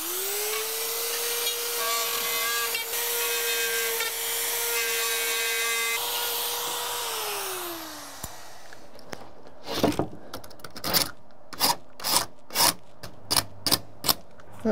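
A power tool trims a wall panel to fit a bowed, out-of-square stairwell storage wall, running in a steady high whine for about eight seconds before winding down, followed by a string of sharp, evenly spaced knocks.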